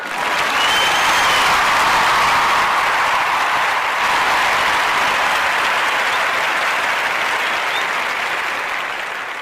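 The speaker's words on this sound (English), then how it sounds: "give her a round of applause for joining us today" A sustained round of audience applause for a woman guest, loud and continuous throughout, easing off slightly toward the end, with no voices over it.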